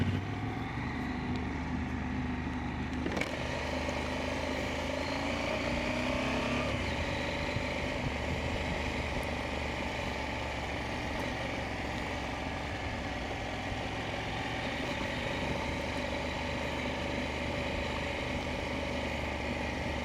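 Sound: enduro motorcycle riding on a dirt road in off-road mode

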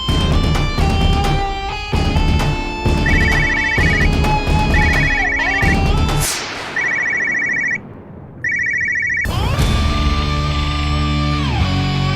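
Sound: telephone ringing while calling someone

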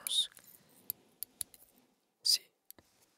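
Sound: clamp scissors being snipped near microphone

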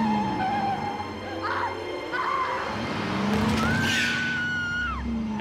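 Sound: car turning and skidding to run someone over

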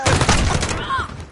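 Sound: gunfire in Call of Duty video game

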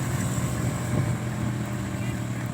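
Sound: motorized tricycle passing

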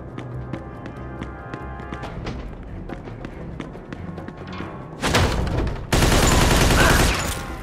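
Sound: gunfire in the video game Mafia II

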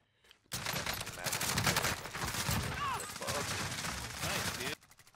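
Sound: shotgun gunfire in Call of Duty Warzone video game

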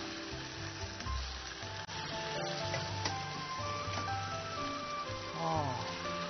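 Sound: ingredients stir-frying in hot oil for spicy pot

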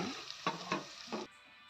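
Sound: prawns frying in a pan until golden

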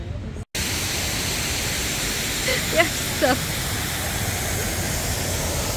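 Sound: waterfall

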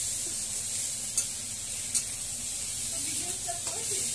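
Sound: potatoes and tomatoes with bay leaf and dry chili sautéing

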